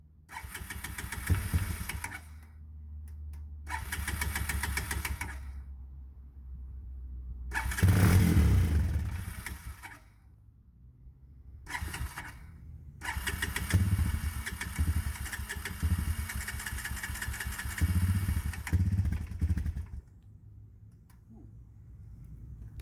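A Honda TRX 250 ATV cranks in short bursts, then fires and runs roughly with a few revs, dying and restarting amid louder, uneven engine noise; no talk.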